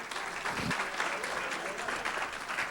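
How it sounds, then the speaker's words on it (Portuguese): Audience applause for Professor Hilton Koch, a continuous bed of clapping from a moderately sized crowd, steady and fairly even throughout, with no clear voices standing out above it. "Professor Hilton Koch, uma salva de palmas."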